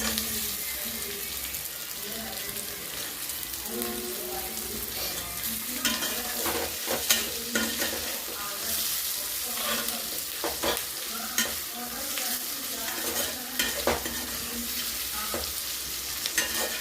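Capsicum sizzles and fries in a pan while a utensil scrapes and stirs now and then, a steady crackle close by.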